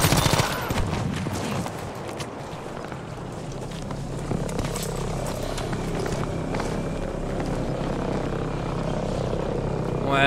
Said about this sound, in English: Where's that bloke shooting from?